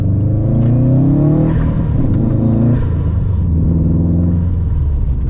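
A Subaru STI Baja's exhaust rumbles loud and close, rising and falling as the engine revs through several gear changes.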